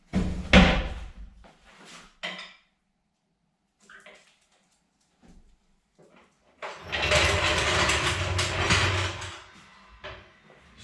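Rear SSR wheels being mounted back onto a Wagon R during a coilover install, heard as a heavy thud and some clanks, then a long, loud burst of metallic clattering and rattling up close in a garage.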